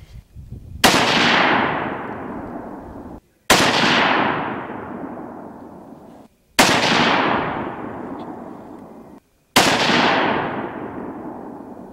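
Four loud, sharp rifle reports from a .22-250 firing 60-grain V-Max rounds, each a close crack followed by a long decaying echo, spaced about three seconds apart with no talking.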